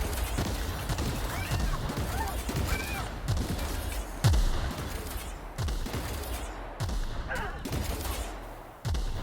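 Weapons fire in The Outer Worlds video game: a series of heavy, close gunshots lands every second or so, each with a sharp attack, over a busy combat background with faint game voices.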